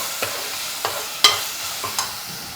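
Ingredients for an Andhra-style korameenu fish curry frying in a pan. Gentle sizzling runs under a handful of quick, evenly spaced stirring scrapes, close and moderately loud.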